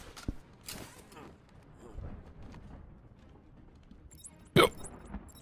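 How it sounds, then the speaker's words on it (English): A single sharp hiccup, loud and close, bursts out near the end of a quiet stretch filled with faint rustling and low game ambience in a hospital setting. "I got the hiccups now."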